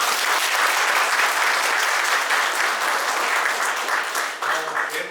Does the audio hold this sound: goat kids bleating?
no